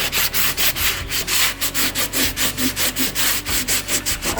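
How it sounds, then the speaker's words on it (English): Steady rhythmic scrubbing of burnt-on grime on a kitchen stove burner with Bon Ami cleanser, fast repeated back-and-forth strokes, close and loud, with no talking. "I'll just keep scrubbing in the same area."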